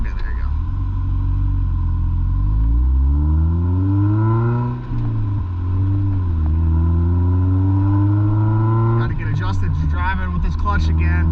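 Car engine revving and rumbling loudly up close while the clutch is ridden, pitch climbing and sagging in long sweeps before a rougher burst near the end, on a drive toward Malibu beach.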